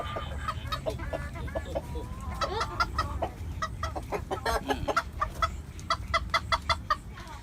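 Fighting chickens, including hens, cluck and call repeatedly on a farm after being let loose, their sharp clucks coming in uneven bursts at close to moderate distance, with no one talking.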